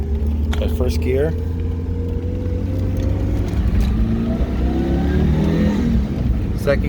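Engine of a 1999 Mitsubishi Eclipse Turbo Spyder rising in pitch as it accelerates in first gear on a straight road, a steady droning climb heard from inside the car, with a voice speaking over it.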